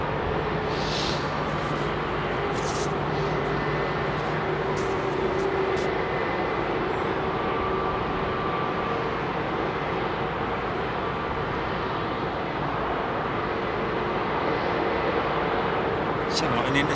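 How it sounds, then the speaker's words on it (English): A single-aisle jet departs runway 27R at London Heathrow, a broad, steady engine roar heard close up and sustained throughout, while someone talks over it. "My favourite little single aisle jet coming out now."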